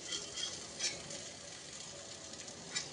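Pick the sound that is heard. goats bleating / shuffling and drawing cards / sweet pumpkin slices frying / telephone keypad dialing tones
sweet pumpkin slices frying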